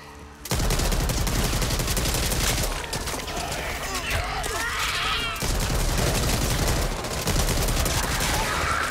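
Loud, sustained gunfire in the zombie shooter Back 4 Blood, rapid bursts and automatic fire pounding almost without pause after a brief quiet start, with voices talking beneath the shooting.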